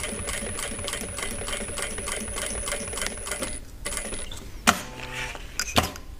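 A sewing machine stitching a bag strap runs in a fast, steady mechanical rhythm up close, then stops, followed by a few handling knocks and clicks.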